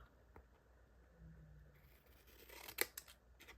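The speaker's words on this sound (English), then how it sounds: "my scissors weren't cutting very well" Scissors snip through paper indoors, soft faint cutting and rustling building to a sharp crisp snip near the end, quiet and close.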